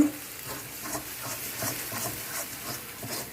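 Prawns hitting hot oil in a frying pan give a loud, steady sizzle with crackling bursts and stirring scrapes throughout, close and alone without talk.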